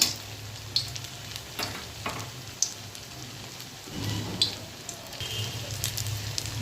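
Soybean fritters frying in hot oil in a pan, a continuous crackling sizzle with scattered pops and light stirring, heard alone at moderate level throughout.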